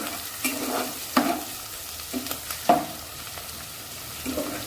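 Ingredients for a katla fish curry fry in a pan, with a faint steady sizzle and repeated scraping strokes of a spatula stirring at close range.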